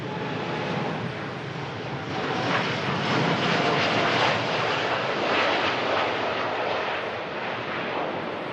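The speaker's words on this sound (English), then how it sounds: "Gulf Air Dreamliner heading back to Bahrain. Gorgeous 787-9 Dreamliner there." Gulf Air Boeing 787-9 Dreamliner jet at Manchester Airport, a loud, continuous broadband engine roar that swells slightly in the middle, heard alone without voices.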